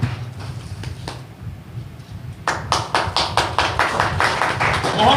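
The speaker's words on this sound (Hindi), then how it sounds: "तालियां" Clapping at an Aam Aadmi Party joining event breaks out midway, a quick regular series of crisp claps rising over a low murmur of crowd noise in the hall.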